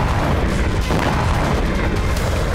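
Explosions from shelling in Ukraine during the Russian war form a dense, loud, continuous roar of booms and rumbling blasts, with no voices.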